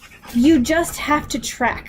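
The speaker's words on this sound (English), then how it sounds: "If you can hear my dogs, I'm sitting outside again, and they're heavy breathers." Dogs pant heavily outdoors, quick rhythmic breaths close by, mixed under someone talking.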